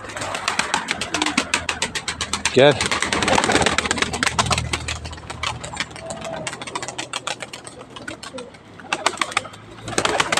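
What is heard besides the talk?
pigeons cooing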